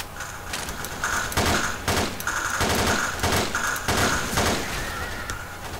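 Gunfire in the Left 4 Dead video game: several rapid bursts of automatic shots in quick succession, loud and close, separated by brief gaps.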